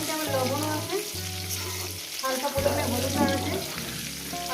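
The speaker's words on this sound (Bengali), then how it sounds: "মিনিমাম পাঁচ ছ মিনিট ধরে ভাজবো আলুগুলো" Potato pieces fry in a pan with oil for a light fish curry, giving a steady soft sizzle with occasional stirring beneath background music.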